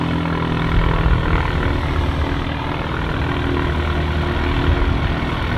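A propeller aircraft on approach at Manchester City Airport, a steady, broad engine drone that holds evenly throughout, moderately loud and fairly distant, with no talk over it.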